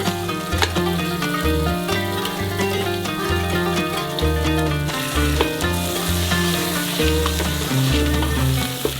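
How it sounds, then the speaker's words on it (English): Meat sizzles and fries steadily in a hot pressure cooker pot, a continuous crackle that runs alongside rhythmic music throughout. "Now I'll start adding my meat."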